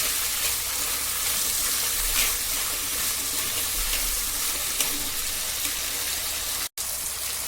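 Eggplant sautés in sesame oil with mustard seeds, onion, tomato and garlic in a pan, a steady moderate sizzle with faint stirring scrapes and one abrupt cut near the end.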